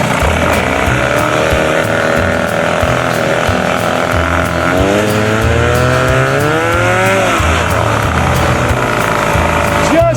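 A 1976 Evinrude 25 hp outboard motor runs fast and loud in a continuous, buzzing roar that shifts pitch midway, heard close and alone throughout.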